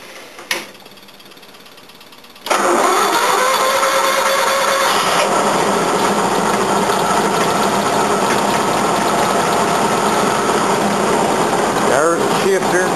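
Yard truck engine cranking over on the choke with a borrowed battery, then catching and running loud and steady with a rattly mechanical clatter; someone talks briefly at the start.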